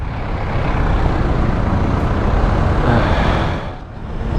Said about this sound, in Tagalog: Traffic to.